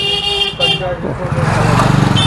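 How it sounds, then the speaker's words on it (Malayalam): Several vehicle horns toot amid busy street noise and engine rumble on Madan Gopal Haveli Marg in Ahmedabad, India, with voices mixed into the crowded traffic din. "നല്ല തിരക്ക് വണ്ടികൾ വന്ന് ഭയങ്കര ഹോണടി"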